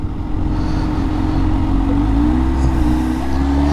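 Supercharged 2022 Kawasaki ZH2 SE motorcycle pulling hard at quarter throttle, a loud, steady engine drone with a rising harmonic pitch as it accelerates, continuous and close throughout.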